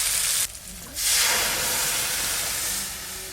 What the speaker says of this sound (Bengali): এবার সেদ্ধ করে রাখা ডালটা ছকে দেব